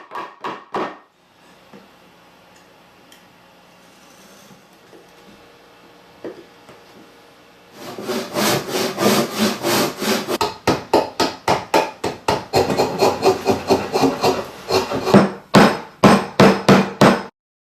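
Wooden workbench legs being notched by hand so a vise face can sit on them, with sharp, close, evenly paced strikes that start after a quiet opening and repeat steadily until the end.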